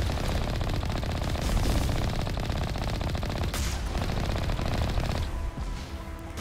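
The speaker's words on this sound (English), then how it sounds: "These sniper shots, they can be frustrating, even though it's just a sniper versus this Colossus" Shots ring out during a Mass Effect firefight against a Colossus, a loud, relentless stream of rapid cracks that barely lets up for several seconds before tapering slightly at the end.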